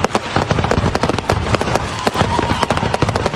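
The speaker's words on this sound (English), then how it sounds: "An illegal fireworks show turned into a terrifying explosion here in Rialto." An illegal backyard fireworks show in Rialto on the Fourth of July going off in a dense, continuous crackle of loud pops and bangs, close and chaotic for several seconds.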